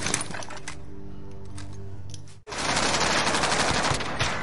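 Gunfire in the Krig 6 video game: rapid automatic bursts, loud and close, a brief pause and then a dense sustained volley.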